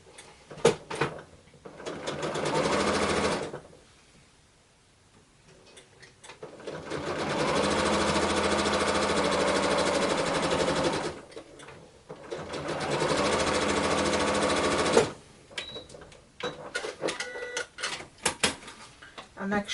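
Sewing machine stitching quilt fabric strips in several sustained runs separated by brief pauses, close and clear, with someone talking during the gaps.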